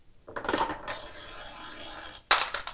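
Half-inch slingshot ammo balls drop into a DIY ammo sorter, landing with a bright metallic clatter, then rolling steadily for over a second before another sharp clinking drop at the end.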